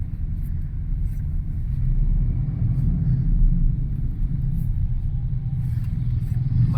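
Street traffic on the Pasig Line near Makati, with motorcycles and tricycles, rolls past as a continuous low engine rumble that swells slightly midway, heard at moderate distance.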